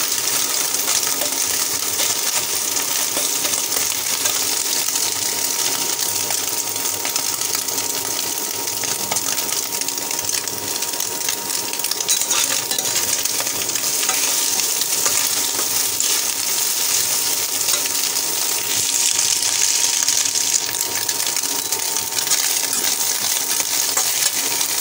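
Bottle gourd sizzles and fries steadily in a hot pan of oil after being poured in, a continuous loud hiss with occasional stirring clatter and no talk.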